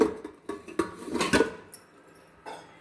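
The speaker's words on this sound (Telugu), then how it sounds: "ఇది ఒకటి పాలు పెట్టుకునే గిన్నె ఇది కూడా ఇందులోనే పెట్టేసాను" Milk vessels being put away in a kitchen cabinet: a run of close metallic clunks and clinks at uneven intervals, fading to quieter knocks.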